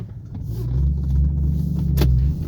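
A 2005 Cadillac CTS-V engine hums low and steady in first gear as the car moves off slowly, with a brief rattle partway through and no talking.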